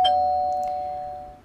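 A doorbell near a front door gives a single clear chime that rings on and slowly fades, loud and alone with no other sound around it.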